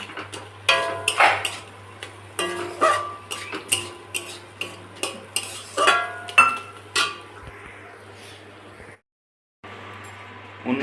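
Metal clanks and scrapes as a wok is set down and shifted on a clay stove in a village kitchen. There are a series of sharp, close knocks, then a brief silence and a low steady hum.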